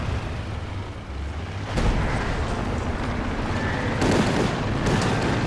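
Artillery fire in Company of Heroes 2 rumbles in dense, continuous booms and blasts, with a sharper burst partway through and another near the end, all loud and close.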